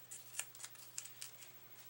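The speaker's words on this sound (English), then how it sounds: "before I cut another strip of ribbon" Scissors snipping through a strip of ribbon for a handmade anniversary card, several quick faint snips spread over a couple of seconds in a quiet room.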